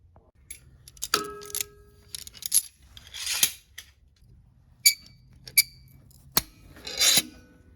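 Sharp metallic clanks and impacts from a slide hammer pulling the water pump seal on a Polaris Sportsman 500 ATV, several in a row with pauses between, close by, plus a brief metal ring.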